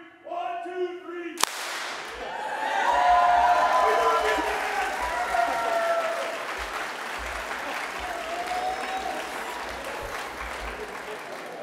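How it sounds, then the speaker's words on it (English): A conference audience at an education summer institute in Minneapolis delivers a single sharp, loud power clap in unison, followed by sustained applause and cheering from the crowd that gradually fades. "Can we get a power clap?"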